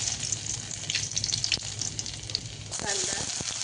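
Finely chopped garlic dropped into hot oil for veg Manchurian gives a steady, bright hiss, with a few clicks and stirring knocks near the end.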